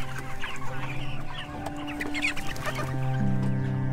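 Chickens on a regenerative poultry farm cluck and murmur close by, overlapping soft calls scattered over a steady tonal background hum, with one clearer drawn-out call near the end.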